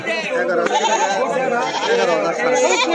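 Goats bleat repeatedly at a rainy-day livestock market in Kaitala, with mother goats and kids for sale, their overlapping calls steady and close amid a crowd of voices.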